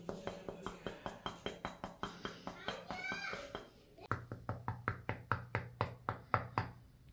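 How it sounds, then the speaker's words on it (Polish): Knocking on thin, cheap bathroom wall tiles in a Korean apartment: a steady run of close, hollow knocks, with a short pause midway before the knocking resumes more firmly. "te nasze kafelki w łazience, to niestety słychać taki pusty odgłos"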